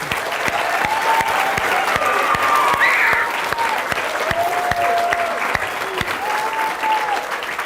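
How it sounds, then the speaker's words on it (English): A school audience gives loud, steady applause after a radio contact with the International Space Station, sustained clapping with a few faint tones and no clear talk. "I think I need another big round of applause for everybody involved"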